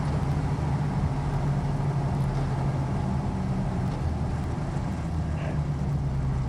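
A 1973 Chevrolet K10 Cheyenne pickup with a built 350 V8 and automatic transmission on the move, a steady low engine drone with road and cabin rumble, smooth and even throughout with no talk.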